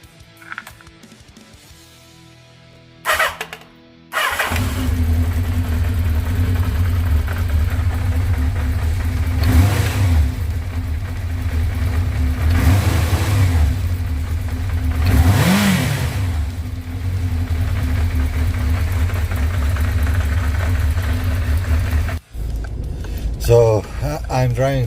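A Kawasaki GT550 motorcycle engine, just repaired on its number one cylinder, starts up and runs close by, idling loudly with several rising revs before cutting off; brief voices come before and after.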